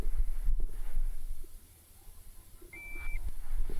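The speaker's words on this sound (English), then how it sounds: "What is that beeping noise?" A single short, high electronic beep sounds once over a low, steady rumble and hum.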